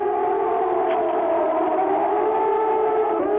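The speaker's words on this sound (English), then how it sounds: "We have heard this siren 5 times in the last 4 hours." A civil defense air raid siren wails during the Gulf War, a loud sustained tone holding steady for several seconds and dipping slightly near the end.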